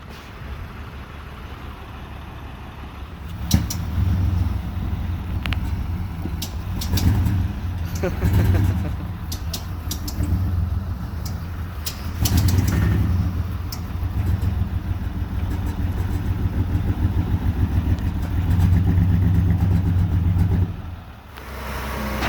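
A tow truck pulls in to collect a junk Chevrolet S10 pickup, its engine droning steadily nearby with occasional clanks and knocks, then pulling away, while a voice talks over it and pigeons coo in the background.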